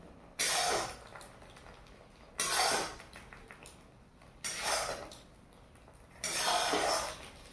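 Fried eggs lifted out of a frying pan, with four separate bursts of scraping and clinking metal utensil against the pan, evenly spaced with quiet gaps between and no talking.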